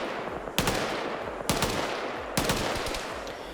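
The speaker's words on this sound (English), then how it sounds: "One of the machine guns is firing." Machine gun fire in a military PvP video game: three sharp bursts of rapid shots spaced about a second apart, fairly loud over a steady noisy background.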